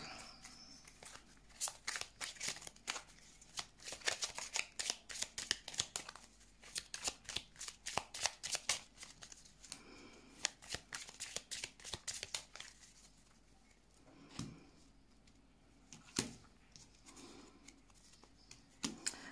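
Oracle cards being shuffled for a card reading: rapid, crisp riffling in irregular bursts, close and fairly quiet, thinning to a few scattered flicks near the end.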